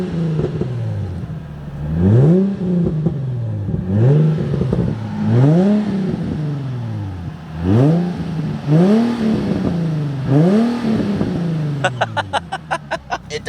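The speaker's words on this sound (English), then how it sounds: "Pretty big single exit exhaust." A JDM car engine revs repeatedly through a big single-exit exhaust, about ten rising throttle blips in a steady rhythm, loud and close, with rapid ticking pulses at the very end.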